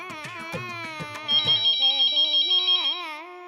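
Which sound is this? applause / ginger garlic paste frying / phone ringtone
phone ringtone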